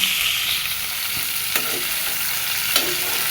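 Cubed pumpkin and potato frying in hot oil with cumin and green chili, a steady close sizzle broken by a couple of sharp spatula scrapes against the pan, no speech.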